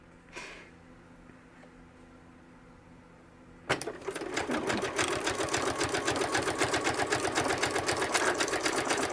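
A sewing machine back stitches while making a fabric ephemera holder: a quiet room, a faint click, then a sudden start into a fast, steady, rhythmic stitching that continues close and even to the end.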